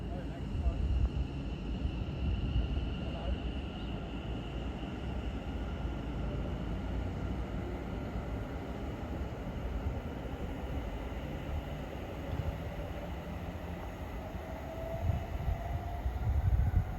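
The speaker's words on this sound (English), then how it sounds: "about ready to depart is the 11:31 West Midlands Railway service to Birmingham" A West Midlands Railway train at Stechford station pulls away, a steady low rumble and engine drone holding for the whole stretch with a faint high tone, swelling slightly toward the end.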